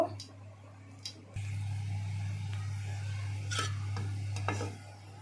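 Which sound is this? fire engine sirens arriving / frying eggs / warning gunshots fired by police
frying eggs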